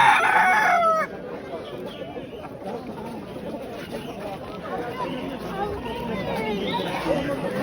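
Chickens cluck and a rooster crows amid a busy poultry and bird market in Antakya, Hatay, Turkey, with people chattering nearby throughout.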